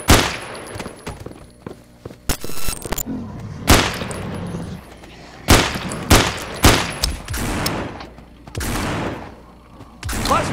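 Rapid gunfire from the zombie survival shooter No More Room In Hell, loud and close, with repeated bursts and single shots cracking in quick succession across the scene.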